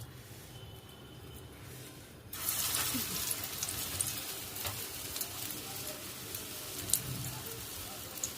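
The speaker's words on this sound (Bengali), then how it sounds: "প্রথমে কোপ্তার আকারে কটা করে আগে ভাজতে দিই, দেখি তেলটা গরম হচ্ছে" Green banana (kacha kola) koftas sizzle in hot oil in a kadai, the crackling starting suddenly and holding as a steady, fairly quiet fry.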